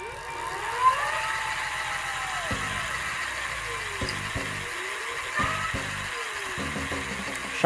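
An electric motor fitted to an old BMX bike spins up during a bench test, giving a whining tone that rises and falls several times over a low hum, close by.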